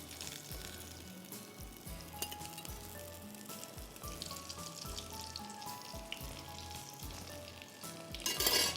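Garlic rolls frying in oil give a soft, continuous sizzle with scattered pops and light clinks, growing louder and busier toward the end.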